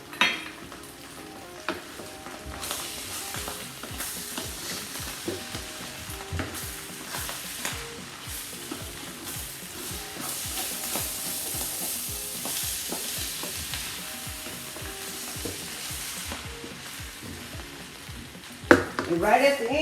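Chicken fried rice with vegetables and soy sauce stir-fried in a hot pan, a continuous sizzle with repeated scraping and tossing clatter from the spatula, close and fairly quiet, ending in a sharper knock.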